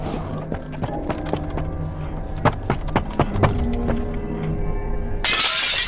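Glass shatters in the horror video game The Mimic Book 2, one sudden loud crash near the end that cuts through a steady layer of eerie game music and scattered clunks.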